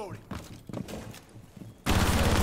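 Rainbow Six Siege gunfire: a few scattered shots and footstep-like knocks, then a sudden dense burst of sustained automatic fire at the end, with voices talking over the game.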